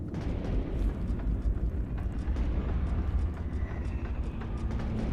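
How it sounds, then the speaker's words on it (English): Cannons firing at an airborne bone ship in the video game Guild Wars 2, a dense barrage of heavy booms and blasts overlapping in rapid succession, loud and continuous. "Get those cannons firing."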